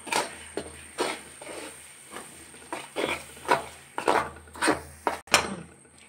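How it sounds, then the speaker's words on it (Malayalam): A utensil stirs thick beef curry gravy in a pan, giving a series of about eight distinct scraping knocks in a loose, uneven rhythm, close and fairly loud, with no speech. "നന്നായിട്ട് ഇളക്കി"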